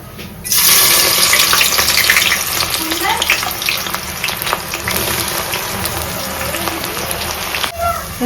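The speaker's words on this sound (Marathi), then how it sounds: "मी आता तेल तापलेलं आहे मी कांदा देते फोडणीला" Onion hits hot oil for tempering and erupts into a loud, close, continuous sizzle that holds steady for several seconds before cutting off near the end.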